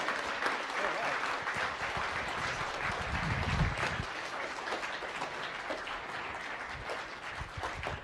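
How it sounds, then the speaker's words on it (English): An audience at a science cafe talk applauds the speaker in a steady, rain-like stream of clapping that stays fairly even from start to finish. "Let's give Katie Mack one more round of applause."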